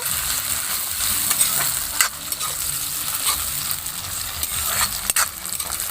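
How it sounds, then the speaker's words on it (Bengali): Chopped tomato and onion frying in oil, a continuous moderate sizzle with soft stirring scrapes and a few clinks of a spoon against the pan, close with no talk. "তো টমেটোটা এখানে গলা অবধি আমি তেলের সাথে কষিয়ে নেব।"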